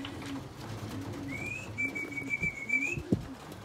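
Soft pigeon coos repeat in a low rhythmic pattern from birds in a breeding cage at a loft, with a faint whistling tone drifting above, fairly quiet and unaccompanied by talk.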